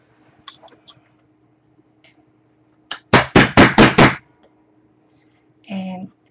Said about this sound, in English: use my awl to get my hammer out.